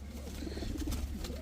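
Soft, low cooing from a male pigeon of a red-marked racing or high-flyer type, a steady close murmur throughout with a faint hiss of other activity around it.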